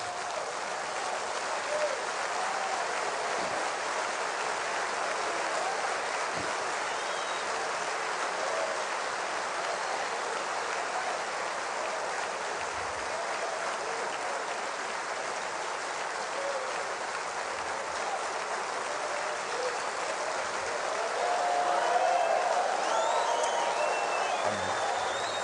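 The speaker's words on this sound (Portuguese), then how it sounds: "eu queria pedir que de pé nós aplaudíssemos a Deus" A church congregation rises to its feet and applauds, producing a dense, sustained wash of clapping that fills the room evenly for the whole stretch and swells slightly toward the end.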